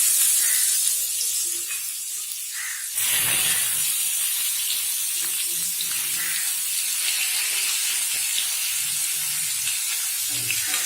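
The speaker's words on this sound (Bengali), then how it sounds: "এবার ওই তেলটার মধ্যেই আমরা কেটে রাখা আলুগুলোকে ফ্রাই করে নেব।" Cut potatoes fry in hot oil left over from frying small fish for a Bengali chorchori, giving a steady close sizzle with a louder surge of crackling partway through and no talking.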